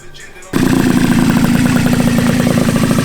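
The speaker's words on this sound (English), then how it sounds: "Running good now with the new carb on." A Honda Elite 120cc stroker moped engine, freshly fitted with a new carburetor, bursts into a loud, steady running note after a brief quiet moment, holding an even, buzzy two-stroke drone close by.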